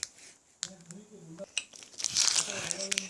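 A jelly candy being unwrapped and chewed, with close crinkling and soft sticky chewing sounds mixed with brief voiced murmurs from the eater.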